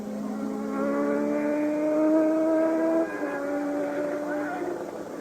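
Nelson Piquet's Brabham Formula 1 car with a conventional eight-cylinder engine at the 1982 Brazilian Grand Prix, a high whining engine note sweeping past with a clear gear change, over crowd and track ambience.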